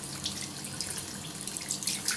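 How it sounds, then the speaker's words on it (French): Tap water runs in a steady, fairly loud rush while hands are wetted under it at a sink, with faint splashing and no voices. "On va commencer par ouvrir le robinet d'eau. On se mouille bien les mains."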